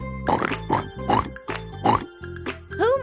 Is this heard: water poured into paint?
no